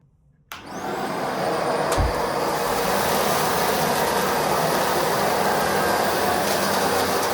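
A Bissell Pet Hair Eraser Dual Brush vacuum cleaner switches on after a brief quiet moment and then runs with a loud, steady, close whine and airy roar, with a single bump partway through.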